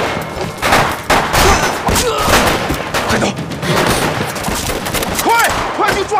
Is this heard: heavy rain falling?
no